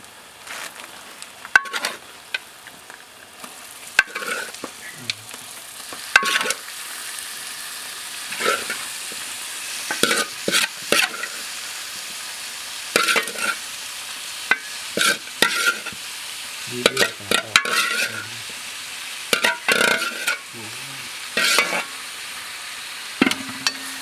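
Marinated pork, mixed with a simple masala of spices including cardamom, fries and sizzles in a kadai, Kerala and Wayanad style. Repeated clattering stirs and scrapes break in at irregular intervals over a steady sizzle, close up and without talk.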